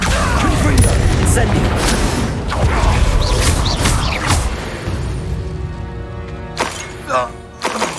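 The Confringo explosive spell bursts in Hogwarts Legacy with booming, crashing blasts and rumbling impacts that fade into scattered thuds, with a voice talking over the action.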